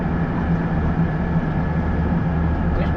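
Massey Ferguson 4707 tractor engine pulling a 15ft Batwing mower on flat ground, a steady droning diesel rumble with constant low hum, close and unbroken throughout.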